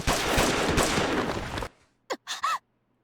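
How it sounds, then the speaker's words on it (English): A pistol shot in the Tokyo Necro visual novel lands within a dense, loud burst of noise that cuts off sharply, followed by a brief near-silence and then a few short clipped sounds. "My shout is drowned out by a shot from the side pistol."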